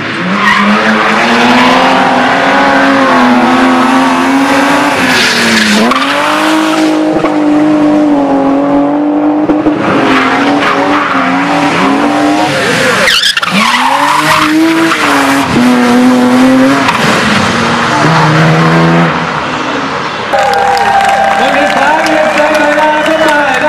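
A rally car drifts at the 2013 ADAC Grabfeld Rallye, its engine revving loudly with long screeching tire squeals that rise and fall close by, while voices talk over the noise.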